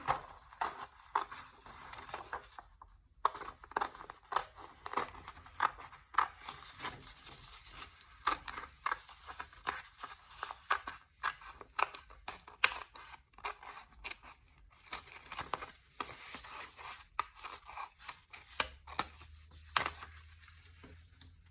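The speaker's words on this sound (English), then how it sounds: "So I just go here and cut around the circle." Scissors cutting shapes out of paper, a quick, continuous run of crisp snips and paper rustles, close and fairly quiet, with a brief pause near the start.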